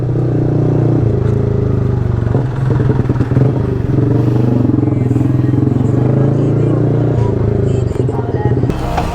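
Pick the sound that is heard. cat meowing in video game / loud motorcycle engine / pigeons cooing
loud motorcycle engine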